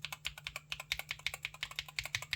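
Rapid keystrokes on a Pulsar PCMK2HE tenkeyless Hall effect keyboard, a steady, close run of crisp clacky taps with a rounded, creamy bottom, heard alone with a faint low hum underneath.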